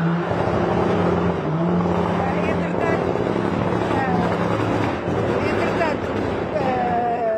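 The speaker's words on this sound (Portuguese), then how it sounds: "Estava a fazer uma pausa aqui por causa deste barulho de rateres de carros." Car engines rev and rattle continuously in the street during a Sporting title celebration that turns into a protest, a loud, dense rumble of several vehicles with rising revs, under ongoing talk.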